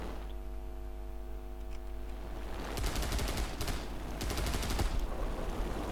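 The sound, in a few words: defensive aircraft machine guns firing in War Thunder video game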